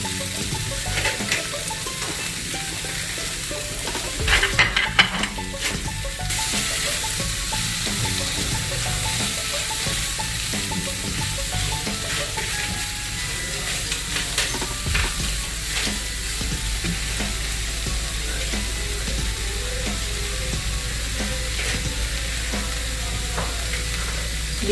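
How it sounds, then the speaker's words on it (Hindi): Chopped green onions stirred into a frying pan with tomatoes for cheesy beef macaroni, a steady close sizzle with scraping stirs throughout and no talking. "मैं अब डाल रही हूँ हरा प्याज।"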